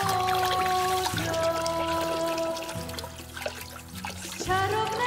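Water trickles and dribbles steadily in a fairy-tale setting, a soft liquid patter mixed under sustained music.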